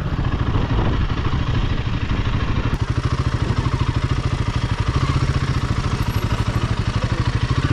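Off-road motorcycles ride across farmland, a loud, close engine with a fast, pulsing chug that holds steady and grows slightly more rhythmic throughout.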